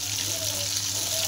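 Fish coated in masala shallow-frying in a pan, giving a steady, close sizzle with a bright hissing texture that holds evenly throughout.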